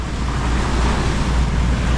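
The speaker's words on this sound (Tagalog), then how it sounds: "ganadong ganado ang ating makina." A service boat's engine, freshly oil-changed, runs steadily on the Pacific Ocean, a continuous low drone mixed with wind and water noise.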